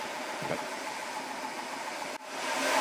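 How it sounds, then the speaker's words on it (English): GX CS4 high-pressure compressor pump, with a filter attached, running steadily while filling an air tank, a continuous mid-range mechanical drone that dips briefly near the end and then resumes slightly louder. "I'm going to start the stop pump."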